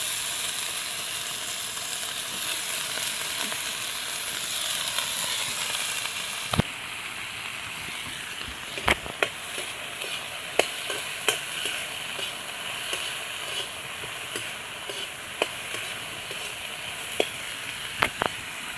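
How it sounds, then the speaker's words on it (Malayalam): Eggplant frying in two tablespoons of oil in a pan gives a steady bright sizzle, with sharp pops and crackles as it is stirred now and then. "2 ടേബിൾ സ്പൂൺ ഓയിൽ, അതിലോട്ട് ഈ വഴുതനങ്ങ ഇട്ട് കൊടുക്കാം."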